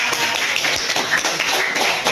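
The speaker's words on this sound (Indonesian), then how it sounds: "Tepuk tangan untuk kelompok 4" Classroom audience applauding for a student group after its presentation, a steady burst of dense clapping that carries through the whole moment with no talking over it.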